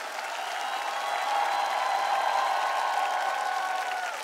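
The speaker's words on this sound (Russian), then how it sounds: "Наши бурные аплодисменты" A television studio audience applauds steadily for several seconds, a dense, even wash of clapping from many hands at constant loudness with no voices over it.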